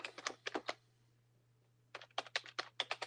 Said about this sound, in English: Just typing that in real quick.